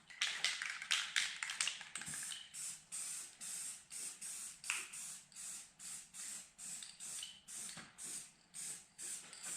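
A spray paint can hisses out a light coat in a rapid series of short bursts, each a bright airy hiss, repeating steadily and close by with no talk.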